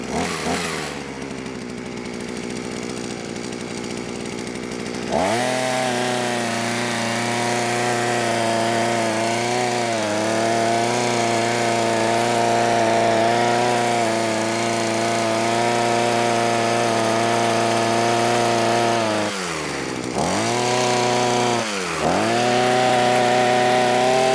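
A gas-powered Vevor 6-in-1 trimmer with its hedge trimmer attachment idles, then revs up to a loud, steady, buzzing drone, dips briefly twice near the end and revs back up, close by with no talk.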